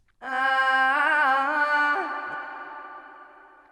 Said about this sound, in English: let's say that I'm going to put a reverb on there now